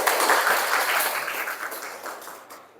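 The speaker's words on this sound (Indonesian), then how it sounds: "Oke, tepuk tangan dulu" A class of students applauding, brisk clapping that starts loud and gradually fades out over a few seconds.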